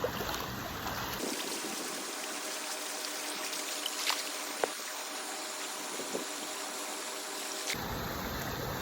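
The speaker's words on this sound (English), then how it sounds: "This is me treading water." Water sloshing and splashing steadily as someone treads water in an 8.5-foot-deep backyard swimming pool, continuous close churning with a few small splashes and drips.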